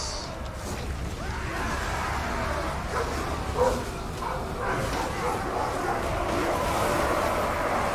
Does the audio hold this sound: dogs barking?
yes